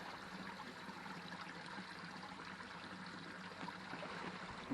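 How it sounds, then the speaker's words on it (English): Faint, steady trickle of pond water poured from a small watering can into a plant pot, a soft continuous stream with no talking. "Let's get my small watering can. Just steal a bit of water from the pond."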